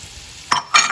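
Onion and carrots drop into a pot of hot oil and burst into a loud, close sizzle, with two sharp surges of frying hiss coming in quick succession after a quiet start.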